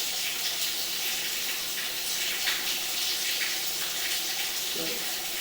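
Water from a tap rushes steadily through about 55 feet of pipe at a house, making a continuous, fairly loud hiss that stays even throughout.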